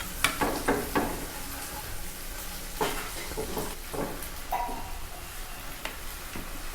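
Onions frying slowly over low heat in a pan for methi matar malai make a soft, continuous sizzle, broken by repeated clicks and taps of a spoon stirring against the pan.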